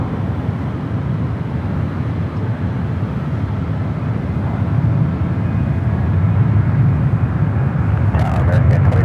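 A jet airliner at San Francisco airport gives a broad low roar that swells gradually louder over several seconds, with a few sharp clicks near the end.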